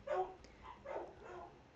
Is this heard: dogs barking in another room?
yes